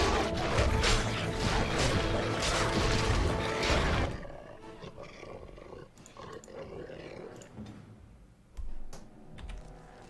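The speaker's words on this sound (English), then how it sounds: "Okay, that's a lot of wolves." Wolves snarl and roar in a fantasy battle in the video game Dragon Age: Origins, a loud dense growling mass for the first four seconds, then fainter scattered combat noise with a brief louder burst later.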